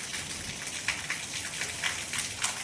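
Rain pours steadily in a Gujarati village under heavy, overcast skies, a dense continuous hiss with scattered louder splashes and drips close by, and no voices over it.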